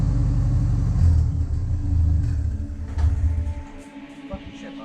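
A Subaru car running with its muffler disconnected gives a steady, deep exhaust rumble close by, easing slightly quieter toward the end.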